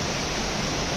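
A waterfall seen from a hilltop above a village gives off a steady, dense rushing roar that stays even and full throughout, with no voices.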